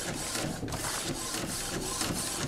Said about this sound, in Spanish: Aquí debería de imprimir corrido sin pausas.